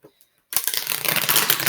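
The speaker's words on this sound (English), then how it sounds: "Let me continue with my shuffling" A deck of cards being shuffled up close after a brief near-silence, giving a loud, continuous riffling flutter that lasts until the end.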